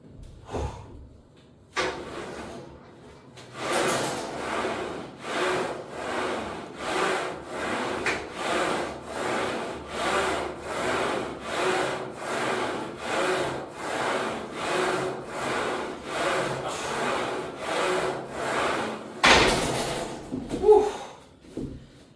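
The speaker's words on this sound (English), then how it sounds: "We're going to go ahead and move on to upright rows now on the Smith machine, 75 pounds." Smith machine bar loaded to 75 pounds sliding up and down its guide rails during upright rows, a steady series of about fifteen rhythmic scraping strokes, close and fairly loud, with quiet breathing between.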